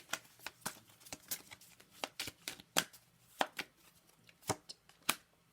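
Quick crisp slaps and riffles of tarot cards being shuffled, irregular bursts close to the ear in a quiet room, with no talking.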